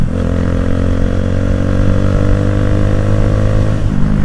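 A 2010 Minerva R150 VX motorcycle engine runs steadily while riding in top gear, a loud close drone with constant pitch and no speech.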